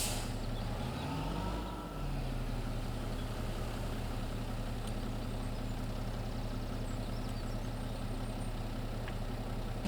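John Deere tractor engine from Farming Simulator idles steadily in a low droning hum, with a brief dip in pitch near the start before settling into a constant rumble.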